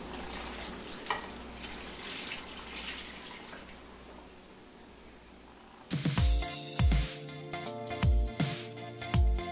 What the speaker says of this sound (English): I'm going to add a glass of water.